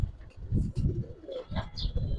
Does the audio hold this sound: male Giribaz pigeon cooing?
yes